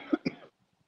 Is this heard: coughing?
yes